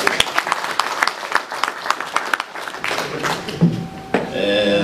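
An audience claps for professors in a hall, with scattered individual claps at first that thicken into a looser ovation, joined by a faint tone and a brief thump near the end.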